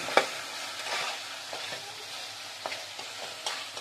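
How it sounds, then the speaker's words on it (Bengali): Masala with turmeric, salt and chili powder sizzles steadily in a pan for a rohu fish, potato and cauliflower dish. Light spatula taps and scrapes recur throughout, close and moderately quiet, with no talking. "একটু লঙ্কা গুঁড়ো এবারে সবগুলোকে ভালোভাবে কষিয়ে নেব"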